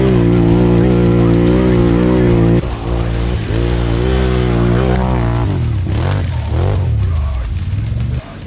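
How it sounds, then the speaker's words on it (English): Off-road vehicle engine with a throaty aftermarket exhaust, droning loud and close with steady rumbling harmonics, then revving and shifting pitch toward the end; no talk over it. "His exhaust is sounding a little more throaty."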